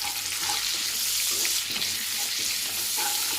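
Whole spices, green cardamom and cinnamon pieces, fry lightly in a pan with a continuous close sizzle and faint stirring clinks, no voices over it.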